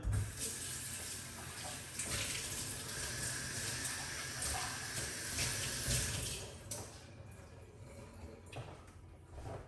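A kitchen tap runs steadily for rinsing while beetroot and pomegranate juice is prepared, a close, continuous splashing gush that eases off slightly near the end.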